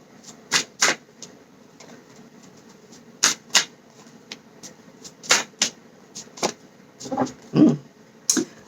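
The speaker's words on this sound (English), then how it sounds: "I'm going to go ahead and pull a couple of cards for the love department" Tarot cards are shuffled and pulled, giving scattered sharp card snaps and soft slides at irregular intervals, close and moderately loud, with no voice.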